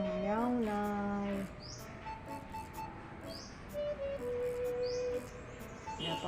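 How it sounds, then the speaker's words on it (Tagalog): Several short bird chirps and tweets sound over a steady background, with a few high sweeping calls spaced out across the clip. "Napakinggan niya ang tunog ng ibon."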